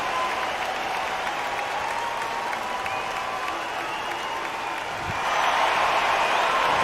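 A packed arena crowd roars and applauds continuously after a knockout in the Undisputed boxing video game, the cheering swelling louder near the end.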